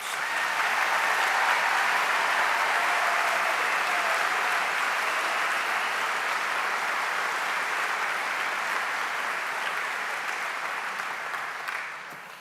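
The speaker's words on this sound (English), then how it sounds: "they deserve a huge round of applause" Sustained applause from a graduation ceremony audience for the brass ensemble, a broad, steady roar of many hands clapping that holds evenly and fades slightly toward the end.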